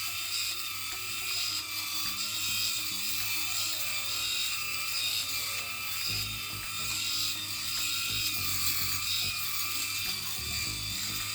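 A Skull Shaver Palm electric shaver runs steadily close by with a constant whining motor buzz, while its cutters add a faint rasping texture as it moves over the head.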